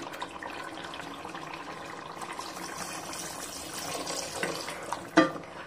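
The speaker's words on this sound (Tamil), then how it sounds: "ஸோ நான் கொஞ்சமாக தண்ணி ஆட்" Water pours and splashes steadily into a cooking pot of mutton rogan josh, a continuous liquid rush with a sharp clink near the end.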